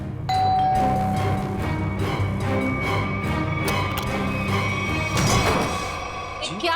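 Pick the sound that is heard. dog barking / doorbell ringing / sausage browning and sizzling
doorbell ringing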